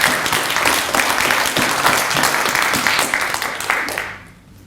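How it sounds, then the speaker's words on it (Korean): Audience at a Daejeon education superintendent candidates' policy debate gives the candidates a round of applause, a dense, fairly loud burst of many hands clapping that fades out quickly at the end. "우리 후보님들께 박수 한번 다시 보내주십시오."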